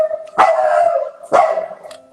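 A dog barks indoors, two loud, close barks about a second apart, set off by a small noise in the hallway.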